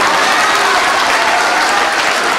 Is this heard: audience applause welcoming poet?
yes